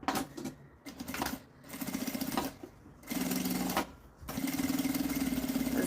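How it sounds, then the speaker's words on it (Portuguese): Sewing machine stitching a zipper onto a fabric pencil case, running in several short bursts of rapid mechanical whirring separated by brief pauses, close and clear. "Fazendo a costurinha."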